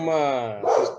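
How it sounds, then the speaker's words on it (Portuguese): A house dog giving a whining, drawn-out yelp followed by a short sharp bark, close by, with a voice-like tonal quality. "às vezes vocês vão escutar o cachorro latindo"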